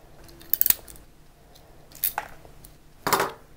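Cutters snip through the cores of a Cat 5 data cable close by, giving three sharp, separate clicks spaced about a second apart in a quiet room.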